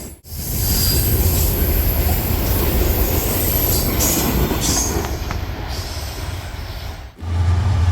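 A freight train carrying auto racks and manifest cars rumbles loudly over a trestle, with steady rolling wheel noise, high metallic squeal and clatter throughout, alone and close by.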